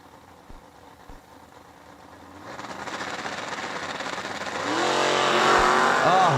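A Camaro and a 1968 Corvette launching in a drag race at a raceway, a faint rumble swelling into a loud, rising engine roar with tire noise as the cars pull away.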